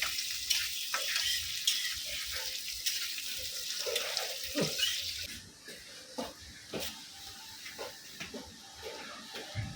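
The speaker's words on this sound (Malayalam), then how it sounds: "അടുത്ത മുന്തിരി നെയ്യിൽ പൊരിച്ചെടുക്കുന്നു" Raisins fry in ghee in a Kerala kitchen while making parippu payasam, a soft sizzle with scattered stirring clicks and clatter, louder in the first half and quieter afterward.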